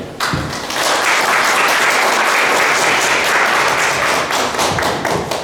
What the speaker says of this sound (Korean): 큰 박수로 진청규 선생님을 모시겠습니다